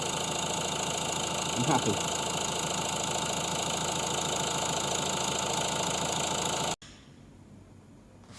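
A 1.6 CDTi diesel in an Astra J idles steadily after a timing chain replacement, a close, even clatter and hum that runs on, with a brief spoken remark partway through, before cutting out near the end.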